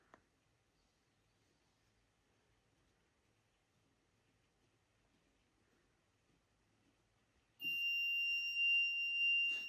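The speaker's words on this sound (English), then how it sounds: "The buzzer getting to alarm and the box is open." A buzzer alarm on a student electronics term project with a seven-segment display sounds abruptly after a long near-silent stretch, a loud continuous high-pitched electronic tone that holds steady to the end.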